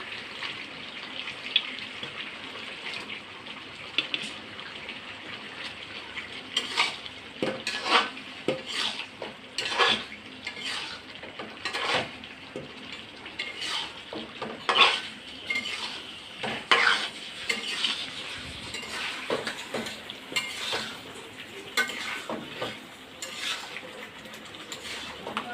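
Cleaned, cut pabda fish fries in hot oil in a pan while being stirred. Frequent scraping and clinking of a metal spatula against the pan is heard close up over a low, continuous sizzle, with no talking.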